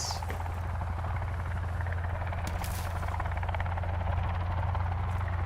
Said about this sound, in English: There's a helicopter, guys.